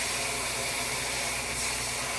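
A constant broadband hiss of steam rises as water is poured into a hot pan cooking eggs, steady and close for the whole stretch with no voices.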